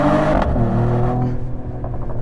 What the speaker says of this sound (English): And on the upshift, you do get that pop. It's a really nice sounding exhaust.